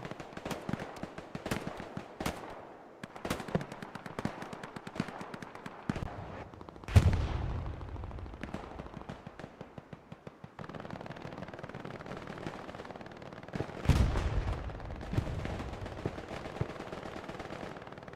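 Rapid machine-gun bursts and heavy explosions, including rocket blasts, come from a Hell Let Loose match on the Foy map. Sharp reports repeat throughout, with two big booming impacts that roll off into rumble.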